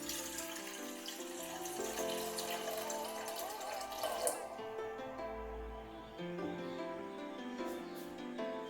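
Water poured into a pan on a stove while making a herbal decoction for colds and coughs: a faint, continuous splashing trickle that runs steadily for several seconds.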